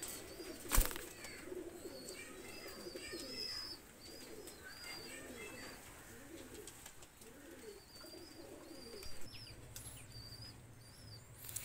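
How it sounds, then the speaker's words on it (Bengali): A pair of Shaki Teddy pigeons coo in soft repeated rolling phrases close by, with faint chirps and a brief thump of wing or movement near the start. "এক পেয়ার সাকি টেডি নিয়ে আসলাম, খুবই চমৎকার কবুতর"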